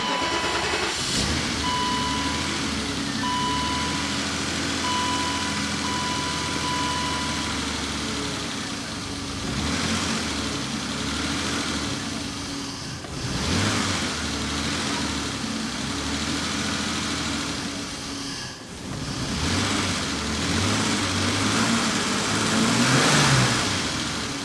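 A BMW 735iL engine runs close by, settling into a steady idle with a few rising revs, and a faint whine over the low rumble.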